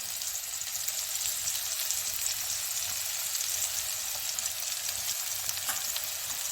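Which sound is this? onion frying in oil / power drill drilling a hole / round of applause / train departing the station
onion frying in oil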